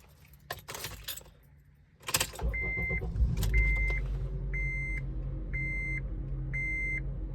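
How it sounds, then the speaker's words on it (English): Keys jangle and a 2011 Honda Element engine starts after a spark plug change, then idles steadily up close while a chime beeps at regular intervals. "you want to start your car and see if there are any misfires with these spark plugs"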